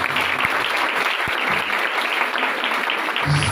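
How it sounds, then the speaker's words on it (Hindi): A church congregation gives sustained loud applause, a dense, even wash of clapping from many hands with no pause throughout. "जोरदार तालियों से जवाब दिया जाए।"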